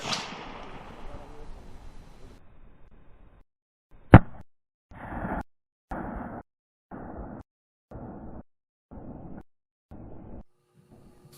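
A 6.5 PRC rifle bullet strikes a ballistic gel block at 1,000 yards, heard as a single sharp distant crack after fading talk, followed by a series of evenly spaced muffled bursts.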